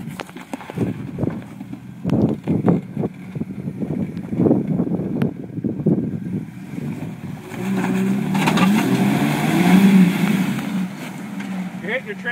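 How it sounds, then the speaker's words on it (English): An off-road vehicle crawls over rocks, its engine rumbling and revving while dull thuds and scrapes come from the transfer case skid plate striking stone. Voices talk over the noise. "You're hitting your transfer case, skid plate."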